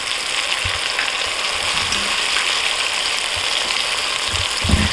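Slider fillings crisp and brown in a hot pan, a steady, loud frying hiss that fills the clip. Occasional soft scraping knocks come from stirring.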